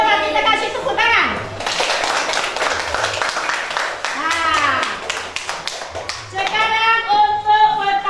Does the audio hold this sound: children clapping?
yes